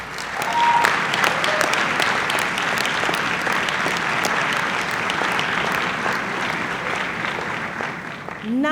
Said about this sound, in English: why don't we give a hand clap for the families and friends who supported you along the way